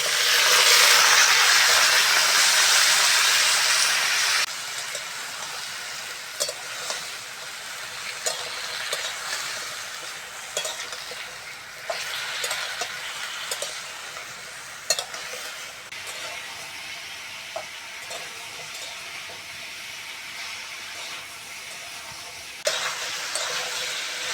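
Chopped, washed vegetables hitting hot oil seasoned with five-spice in a wok, a loud rushing sizzle at first that settles into a steady fry, broken by repeated scrapes and knocks of stirring.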